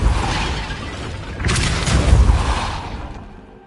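A Repulsor spell is cast in Hogwarts Legacy: a loud, close blast with a deep booming rumble, a second surge of crackling impact midway, then a fading tail.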